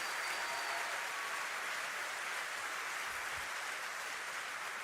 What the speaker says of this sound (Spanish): Eso merita fuertes palmas.